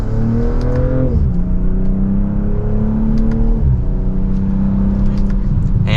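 A 2025 BMW M440i Coupe pulls hard in sport mode, its engine note rising loudly through the gears with gear changes breaking the climb, heard steadily from inside the cabin.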